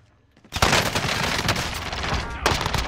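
Gunfire in a video game, a loud sustained burst of rapid shots that breaks in suddenly after a quiet start, with a brief dip near the end before more shots, and no talk.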